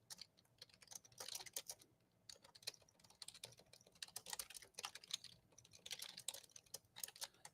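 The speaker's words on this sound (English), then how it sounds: "Here, just typing some information to them with that report." Rapid bursts of typing on a computer keyboard during live severe weather coverage, soft and close, with short pauses between flurries of keystrokes and no voices.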